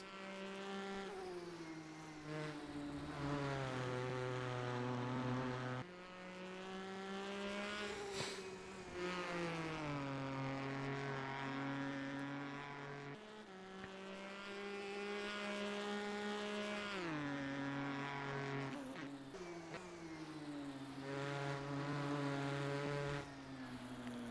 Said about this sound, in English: I think this might be one of the best sounding GTE cars on rFactor 2.